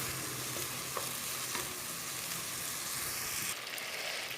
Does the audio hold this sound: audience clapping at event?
no